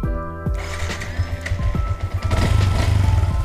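A Yamaha MX King 150 motorcycle engine fires up and settles into a steady idle, with a sharp start transient followed by a rhythmic, uneven putter that grows fuller toward the end, close to the microphone.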